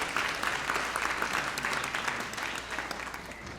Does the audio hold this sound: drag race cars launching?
no